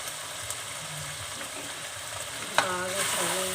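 Keema fries with chili powder, garam masala, salt and other masala powders, giving a steady close sizzle and faint stirring scrapes, with a brief clatter and a voice-like tone near the end.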